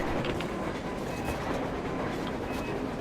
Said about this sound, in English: Looks like they're chasing that train too.